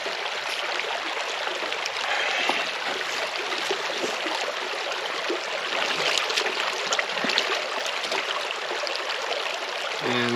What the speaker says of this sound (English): I just love the sound of water.